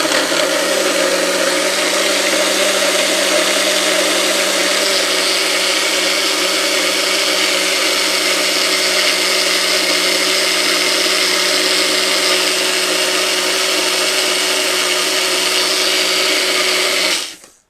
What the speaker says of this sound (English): the TriBest blender is really low tech